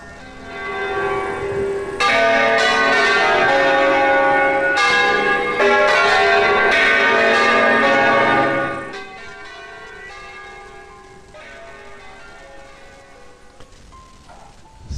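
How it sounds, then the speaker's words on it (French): Church bells in a bell tower in the Italian lakes region of Lombardy peal loudly in rich overlapping strokes for about nine seconds, then fade into a lingering hum and distant ambience. "je souhaite vous faire écouter la cloche caractéristique des clochers"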